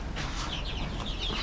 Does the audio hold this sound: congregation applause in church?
no